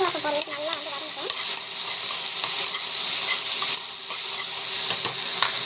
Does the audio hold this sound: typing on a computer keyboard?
no